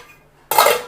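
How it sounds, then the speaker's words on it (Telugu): A metal lid set onto a pot of kneaded paratha dough, one sudden close clatter with a short ringing metallic tail and no talk. "మూత పెట్టేసి పక్కన పెట్టేసుకోండి."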